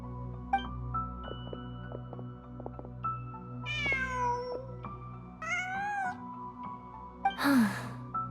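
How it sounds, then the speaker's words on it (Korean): A cat in Genshin Impact gives a few distinct meows, some rising and drawn out, with a final louder yowl near the end over a quiet ambient background. "고양이였나?"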